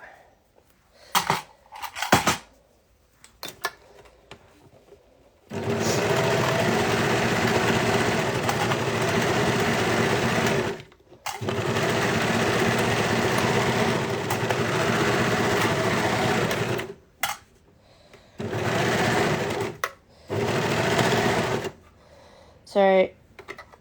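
A sewing machine stitching the seams of a Tadah Patterns Tighties garment, running in several sustained bursts of steady whirring separated by pauses with brief handling clicks, close and clear.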